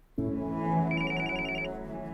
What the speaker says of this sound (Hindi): क्लाइंट का फोन है, एक्सक्यूज मी।